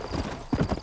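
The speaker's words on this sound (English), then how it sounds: "let's mount up and hit the trail" Horse hooves clip-clopping in the video game Red Dead Redemption, a couple of quick hoof steps over a busy, steady game background in a very short snippet.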